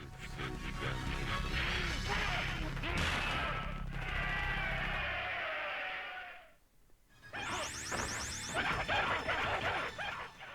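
Objects being smashed in a Mortal Kombat video game, with loud crashing impacts and whooshing effects under game sound, a short drop to near silence, then more crashes and a bright chiming burst.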